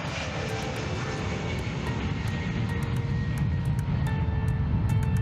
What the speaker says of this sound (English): The massive wings of the KC-10 provide the lift needed for takeoff, and as it gains speed, the nose of the aircraft lifts up into the air.